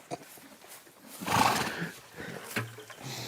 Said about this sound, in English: I'll show you the funnest way to mount a horse